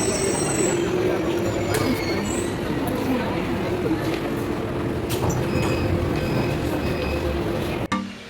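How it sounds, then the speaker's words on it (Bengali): Delhi metro train pulling into a crowded underground station, a loud sustained rumble with squealing wheels and rail clatter, close by, ending in a sharp clunk. "আর এই দেখো মেট্রো চলেও এসেছে"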